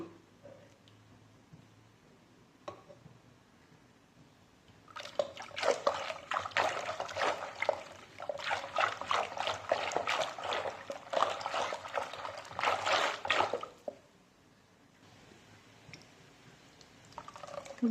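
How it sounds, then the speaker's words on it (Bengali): Cooked mung dal is worked with a hand masher in a pot, giving a stretch of wet, squelching, rapid clicking strokes in the middle, with quieter handling before and after; no talking. "এরপরেও আমি একটু ডাল ঘুটনি দিয়ে একটু ঘুটে নেব"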